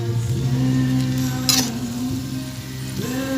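Adobong balatong with eggplant sizzling in a pan, cooked outdoors, a steady close frying hiss with a brief scrape or clink of a utensil partway through.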